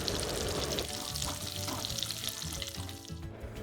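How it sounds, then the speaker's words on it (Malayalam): Chopped garlic dropped into melted butter in a pan, a steady close sizzle and crackle of frying with faint stirring, continuous throughout without talk. "ബട്ടർ നന്നായിട്ട് മെൽറ്റ് ആയതിന് ശേഷം അതിലേക്ക് നമ്മൾ ചെറുതായിട്ട് മുറിച്ച് വെച്ച ഗാർലിക് ചേർത്ത് കൊടുക്കാം"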